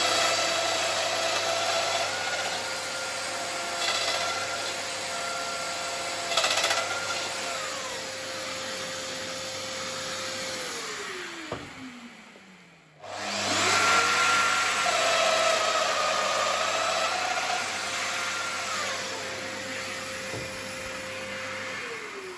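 A Festool Domino joiner mortises wood with a loud, steady motor whine that winds down and stops midway, then spins back up for a second run, with a brief cutting rasp near the start.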